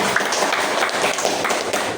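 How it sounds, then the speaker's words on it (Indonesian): Fourth-grade schoolchildren clap together in their science classroom, a busy, ragged burst of small hands that continues steadily at close range without speech on top. "Oke, tepuk tangan dong."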